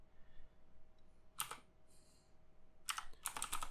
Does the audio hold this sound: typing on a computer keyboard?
yes